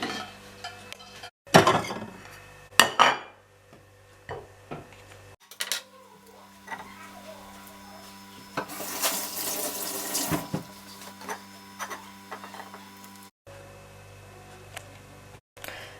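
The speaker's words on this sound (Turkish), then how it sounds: "Evet şimdi tencerenin içine suyu doldurdum" Water runs from a tap into a pot, with kitchen clatter and clinks of dishes before and after the flow.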